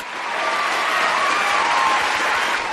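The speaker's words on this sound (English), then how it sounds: "Give them all a big round of applause." Audience applause at a quiz show, a steady dense round of clapping from a crowd that holds at an even level for a few seconds, with no talk over it.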